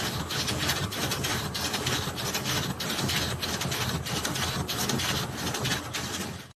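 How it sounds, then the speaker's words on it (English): An intaglio printing press pressing banknote plates at a modern money printing factory, its heavy plates descending under great pressure, making a loud, steady mechanical clatter with regular rhythmic pulses throughout, close and continuous with no talk. "50-ton plates descend with 22 tons of pressure, literally crushing the ink into the fabric"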